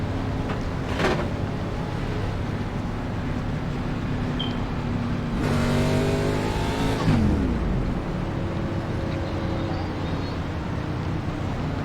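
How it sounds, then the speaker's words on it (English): A wrecked race car in a stock car racing game drones along at a steady engine hum, with a louder swell of revving and passing engine noise midway through before settling back to a constant drone. "I'm just a wrecked race car looking to finish the race"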